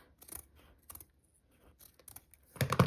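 Scissors snip through cross stitch fabric just beyond the stitching, a few short, close crisp cuts separated by pauses, ending in a louder rustle of handled cloth.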